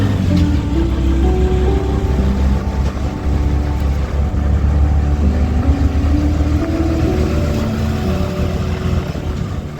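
A steady auto rickshaw engine drones loudly throughout a ride from Virar East to Virar West, its pitch rising and falling with the throttle, mixed with constant road and traffic rumble and no talking.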